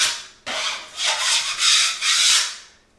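A drywall knife scrapes dried joint compound off a wall in several loud, close, rasping strokes, each swelling and fading with short pauses between them.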